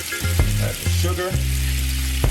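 Sugar added to sizzling butter in a hot pan while cooking a honey glazed salmon, with steady frying crackle and occasional stirring clatter.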